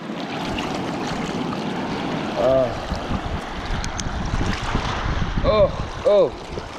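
Cold river water splashing and rushing around someone standing in it on a wilderness trail, a steady broadband wash with brief voice exclamations over it, close to the microphone with some wind buffeting.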